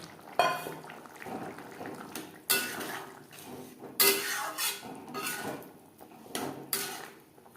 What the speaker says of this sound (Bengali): এই পর্যায়ে দিয়ে দেব ভেজে রাখা চিংড়ি মাছ।